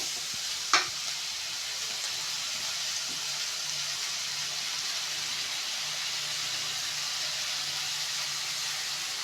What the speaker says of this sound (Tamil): ஸோ இது மாதிரி நல்லா கரண்டி வச்சு நல்லா கிளறி விட்டுக்கோங்க.